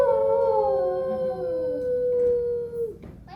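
A dog named Rover howls in a long, loud, wavering tone that slowly falls in pitch, alone with no talk, in an animatronic family-home scene, then breaks off near the end.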